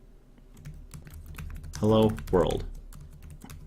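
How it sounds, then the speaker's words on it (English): Java code typed on a computer keyboard: steady, rapid key clicks throughout, with a short burst of speech in the middle over the typing. "you're going to start typing your Java statements"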